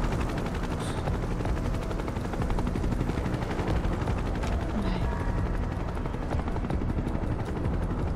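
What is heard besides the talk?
helicopters in the video game Final Fantasy 7 Rebirth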